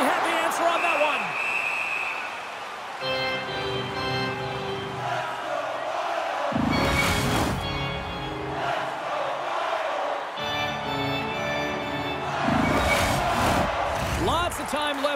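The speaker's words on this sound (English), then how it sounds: "You can feel the energy in this crowd." An arena crowd in the NHL 25 hockey video game roars and cheers in sustained waves during a playoff game 7 between Minnesota Wild and Los Angeles Kings, loud throughout with bursts of swelling noise under game sounds.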